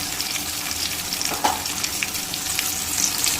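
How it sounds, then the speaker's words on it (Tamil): Tomatoes and onions frying in oil in a pan for a bitter gourd stir-fry, a close, steady sizzle with faint crackles and small pops throughout. "தக்காளி வெங்காயம் இது ரெண்டு நல்லா வதங்கி வரட்டும்"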